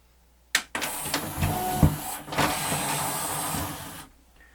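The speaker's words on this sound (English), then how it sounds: "the motor, which actually goes up and down?" The motor of a Pioneer CLD-V870 laserdisc player moves its mechanism up and down, giving a close mechanical whirring and clunking that runs for about three and a half seconds, with no speech.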